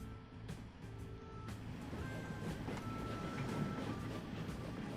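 A train in the Transport Fever game runs on its rails with a steady, even rumble that holds through the whole stretch, with thin tonal whines from the wheels and no voices.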